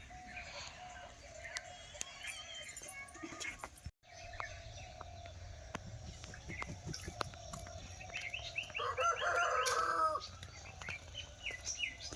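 Chickens cluck and chirp around a farmyard in a Sundarbans village, with a burst of louder calls near the end over steady outdoor background noise.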